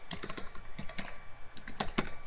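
Someone types on a computer keyboard while entering a WordPress post title, producing a quick, uneven run of close, crisp key clicks with no talking.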